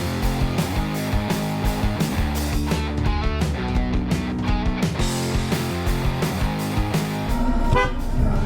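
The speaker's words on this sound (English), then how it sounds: "Someone nearby honks, and the guy in front of me thinks it's for him." Car horns honk repeatedly in road traffic, loud tonal blasts that come in a rapid, overlapping series over the full stretch with little pause between them.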